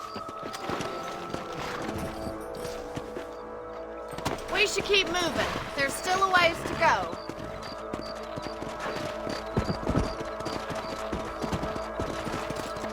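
Steady clip-clop of horse hooves trotting throughout in the video game Red Dead Redemption, with someone speaking briefly partway through over the rhythmic hoofbeats.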